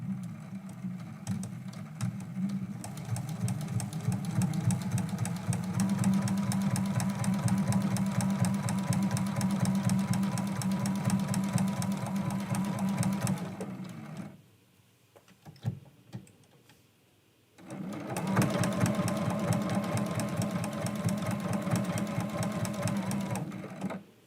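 A sewing machine stitches through the layers of a quilt-as-you-go Christmas quilt block in a fast, steady run. It pauses briefly, then sews again, with no talking.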